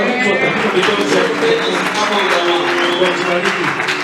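A church congregation at a Sunday worship service applauds in steady, sustained clapping that fills the room. A voice speaks over the applause throughout.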